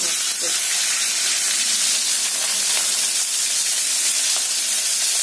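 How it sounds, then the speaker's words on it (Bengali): Khoira fish goes into hot oil in a kadai for a Sunday lunch, giving a loud, close, continuous hissing sizzle that holds steady throughout. "আর এদিকে কড়াইয়ে তেল গরম হয়ে গেছে, এদিকে দেবো খয়রা মাছ"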